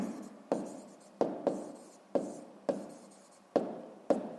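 A pen writes on paper in short, quick scratching strokes, about eight of them in a few seconds, close and clear with no talk.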